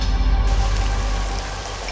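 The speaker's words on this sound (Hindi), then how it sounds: "मौसम खराब है, तेज बारिश आने वाली है" Heavy rain pours down steadily, a dense wash of noise with no voices, loud and close throughout.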